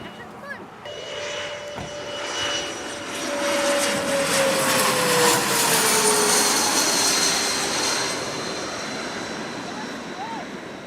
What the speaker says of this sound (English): we got a close-up look while the planes came in for landing